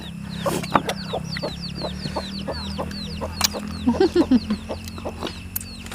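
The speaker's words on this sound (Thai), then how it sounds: "ไก่" Chickens clucking close by in a rural yard, with repeated short clucks and a busy burst of them near the end, while high-pitched bird chirps sound in the background.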